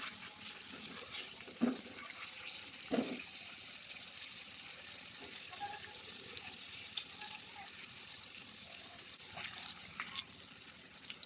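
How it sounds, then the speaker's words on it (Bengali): Dried fish frying in a little oil for a Bengali curry with beans and eggplant, giving a steady close sizzle and hiss throughout with a few brief clatters, no talking. "হালকা তেলে ভেজে ফেলবেন।"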